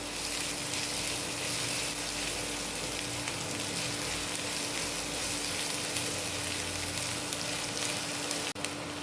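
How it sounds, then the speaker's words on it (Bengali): Crushed garlic frying in a pan for a fish recipe, a steady close sizzle with constant hiss and faint stirring throughout. "এটা একটুখানি আমি ভেজে নিচ্ছি লাল করে।"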